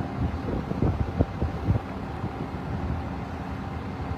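Strong wind during a large fire at Isla Puting Bato, Tondo, Manila buffets the microphone in low, rumbling gusts, with a steady roar underneath and a few sharper blasts in the middle.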